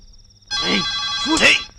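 A telephone rings in one electronic trill burst lasting over a second, loud and close, with brief voiced sounds underneath.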